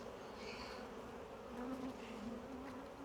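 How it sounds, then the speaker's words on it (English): Honey bees buzz around an open hive during a beekeeper's inspection, a dense, steady swarm drone with individual bees passing close by. "Lots of bees."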